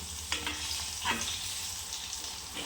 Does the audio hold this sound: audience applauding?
no